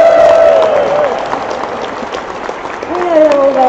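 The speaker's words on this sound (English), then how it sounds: "Give the onliners a big cheer" A crowd in Coventry Cathedral claps and cheers loudly in a dense, sustained burst of applause. Voices and a few tonal cries ride over the clapping as it eases slightly and then swells again.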